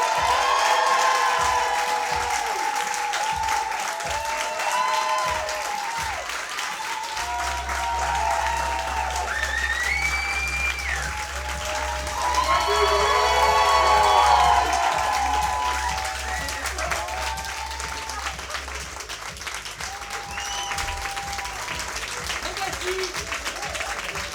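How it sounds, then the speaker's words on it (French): An audience at an improv theatre show applauds and cheers as the two improvisation teams come on stage, long sustained clapping with shouts and whoops rising and falling, a low musical hum underneath. "Ils sont là, c'est parti, on les applaudit."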